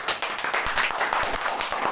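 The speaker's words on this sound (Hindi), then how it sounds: "घर में एक बार सर के लिए ताली बजा दीजिए।" A group claps for a teacher at a gathering. The many hands make a dense, continuous patter that stays fairly loud throughout, with no talking over it.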